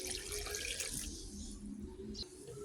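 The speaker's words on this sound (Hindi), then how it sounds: "अब मैं ये इसमें 1 गिलास पानी डालती हूँ।" Water poured from a glass over sliced turmeric in a grinder jar, a continuous splashing pour lasting a couple of seconds, close and fairly loud, with no talking.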